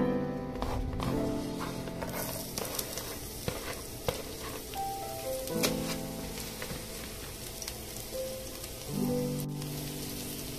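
Garlic sizzling in hot oil in a frying pan, a steady crackling hiss broken by clinks and stirring scrapes, close and moderately loud with no voices.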